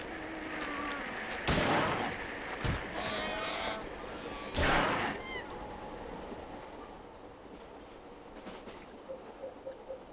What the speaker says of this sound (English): Horrible goat monsters.